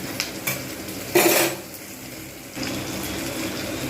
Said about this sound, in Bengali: এবার আমি এর মধ্যে দিয়ে দেব আলু